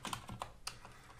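Close, rapid keystrokes on a new computer keyboard during a command-line hacking session, an uneven burst of clicks with no voices.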